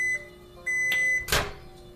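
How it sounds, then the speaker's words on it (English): A kitchen microwave oven finishes heating water and sounds a few short electronic beeps, followed by a sharp click of the door, close and alone in a quiet room. "some warm water that I've heated in the microwave"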